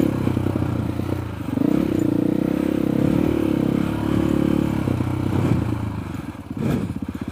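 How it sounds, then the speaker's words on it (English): A 2021 KTM 500 EXC dirt bike rides single track at Cline Butte OHV, its engine droning and surging up and down nearby, with clattering and scraping from the rocky trail. "first time ever riding single track, and I'm riding a 2021 KTM 500 EXC."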